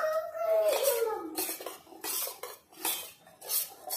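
A spoon stirring ragi porridge for a baby in a small pot, repeated clinking and scraping strokes in an uneven rhythm, with a brief voice near the start.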